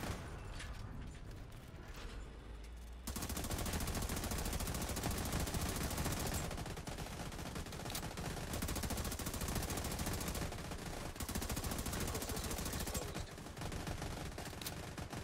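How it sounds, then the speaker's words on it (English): Rapid automatic gunfire rattles almost continuously during a combat raid in The Division 2, with a brief quieter stretch at the start and short pauses between long, dense bursts, all at a low, distant level. "I'm shooting now."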